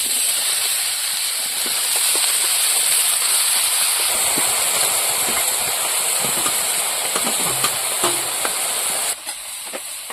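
Vegetables for a Bengali shukto sizzle steadily in a hot kadai, a continuous bright frying hiss with faint stirring clinks, no talk.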